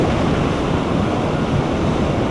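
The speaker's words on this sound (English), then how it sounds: "the wind is so strong" Strong wind roars against the microphone while riding a very fast G4 MAX vehicle, a loud, dense and continuous rushing blast with no pauses.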